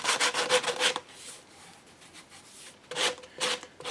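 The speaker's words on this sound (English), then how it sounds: "I like using a really coarse 80 grit to knock down Bondo" A coarse 80-grit drum sander works over Bondo filler on an Anschutz 380 rifle stock, producing bursts of rough rasping strokes, a fast cluster at first, then a quieter stretch, then several more strokes, fairly soft and close.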